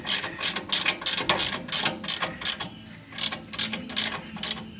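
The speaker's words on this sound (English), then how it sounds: "Now we're just gonna tighten up the bottom nut down here" A socket ratchet tightens the bottom shock absorber nut on a 1993 Pajero/Montero front suspension, giving rapid, close metallic clicking in short repeated bursts with brief pauses.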